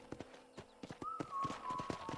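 Horse hooves clip-clop at a steady trotting rhythm in Red Dead Redemption, close and fairly soft, with a faint tonal game sound entering partway through.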